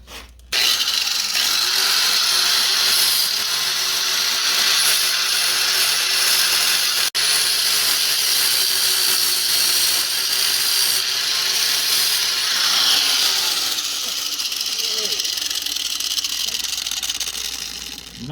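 A power grinder whines continuously against steel drive shafts for a 6x6 RC truck, a loud, harsh, sustained grind lasting the whole stretch with slight shifts in pitch as the cut progresses.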